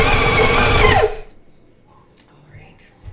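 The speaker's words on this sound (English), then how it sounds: "And then we'll mix it again." An electric mixer whirs loudly through banana bread batter for about a second, then cuts off and leaves faint kitchen sounds behind it.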